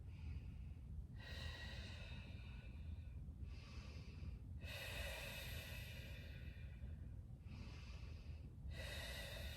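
Slow, deep breathing while holding a yoga pose: several long nasal inhales and exhales, close and distinct, over a steady low background hum with no talk.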